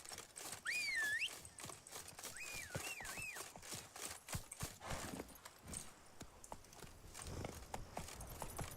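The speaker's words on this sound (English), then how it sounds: "So, Horsey, come here." Horse hooves clip-clop at a steady rhythm in The Witcher 3 video game, close and clear, with a couple of short synthetic whinny-like tones near the start and some clatter of game effects.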